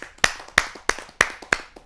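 At a Hindi poetry gathering, a few sharp hand claps ring out in a slow, evenly spaced rhythm, five distinct strikes close by with quiet gaps between them.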